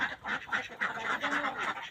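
Ducks on a small family duck farm kept for eggs and meat, quacking continuously in an overlapping chorus of several birds, close and steady, with no talking.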